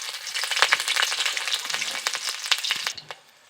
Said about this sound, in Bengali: শুকনো লঙ্কা কুচিগুলো দিয়ে দেবো।